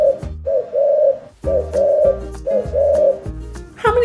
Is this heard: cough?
no